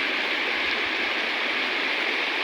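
Floodwater from heavy rain rushing along a road like a river, a steady, loud broadband roar of flowing water with no pauses, close by and without any talk.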